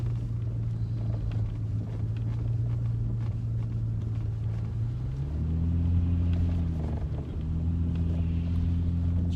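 A car engine drones at low revs as it climbs an icy hill in Jackson, Mississippi, a steady close rumble that rises in pitch partway through as the driver eases on the gas, with faint wind noise.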